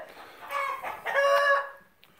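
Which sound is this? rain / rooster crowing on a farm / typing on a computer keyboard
rooster crowing on a farm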